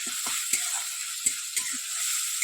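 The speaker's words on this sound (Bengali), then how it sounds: "হালকা করে নাড়াচাড়া করে নেব মশলাটা" Onion, ginger and garlic paste frying in a pan with a steady soft sizzle, broken by several short scraping knocks of a spoon as the masala is stirred, close and moderately loud.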